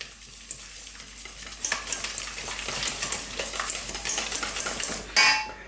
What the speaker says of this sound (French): je vais donc fouetter le fromage. Et ensuite, je vais y ajouter donc ma crème liquide entière petit à petit.